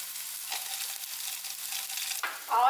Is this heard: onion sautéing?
yes